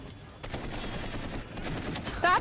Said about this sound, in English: Stop shooting at him!